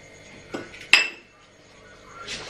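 A pressure cooker is set up to boil potatoes, with two sharp metallic clanks of cookware close by, then quiet and a soft rustle at the end.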